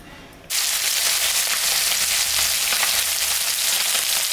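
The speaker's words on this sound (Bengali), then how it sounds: "মাছটা ভাজা হয়ে গেছে এখন আমি তুলে নেব" Ayla sea fish fries in mustard oil in a kadai, a loud, dense close sizzle that bursts in suddenly and holds steady with crackling spatter, with no talking.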